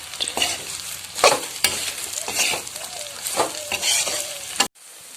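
Spiced chicken sizzles in a hot pan while a spoon or spatula stirs it, with steady frying crackle punctuated by repeated scraping strokes, close and fairly loud, ending abruptly.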